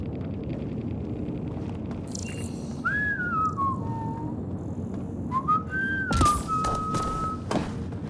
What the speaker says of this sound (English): Now whistling.